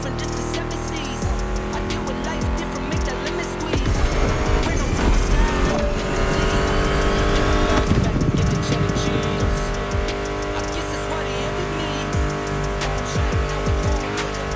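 Engines race in The Crew Motorfest, loud revving cars roaring past with tire squeals and skids, the roar swelling mid-way and then settling into a steady drone with a music track layered underneath.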